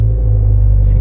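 A Subaru WRX with a CVT gearbox gives a very loud, deep engine rumble right up close, steady and throbbing for a brief moment.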